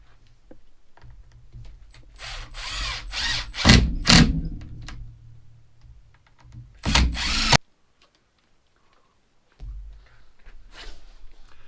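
A power drill tightens screws on a 2022 Voltbike Nitro e-bike, sounding in several bursts of whirring, the loudest pair at mid-clip and a short burst near the end, with quiet pauses between and no talk.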